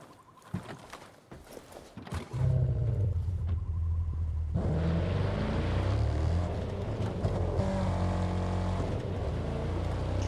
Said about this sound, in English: Oh my god, this car sound.